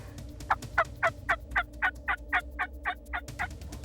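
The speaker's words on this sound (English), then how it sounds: "There's actually 5 gobblers in there, and it looks like there's 6 or 7 hens." A rapid series of about a dozen wild turkey gobbles from a flock of gobblers and hens in Texas, in an even rhythm, distant but clear outdoors.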